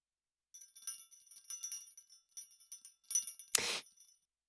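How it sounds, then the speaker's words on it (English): Small bell jingling in a quiet room, a series of light, high tinkling rings spread across a few seconds, with one louder brighter jangle near the end. "apart from my bell, which is making noises."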